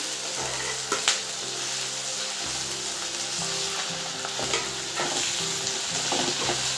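Dried prawns fry in hot oil with fenugreek seeds, giving a steady close sizzle broken by several scraping stirs of a spatula in the pan.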